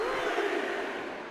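Arena crowd in a wrestling video game's MyGM mode, a continuous loud roar of cheering and shouting that holds steady for a brief moment.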